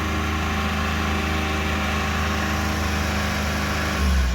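A kei truck engine runs at a steady, fast idle with no throttle input, a continuous close mechanical drone holding even throughout and rising briefly in pitch and level near the end.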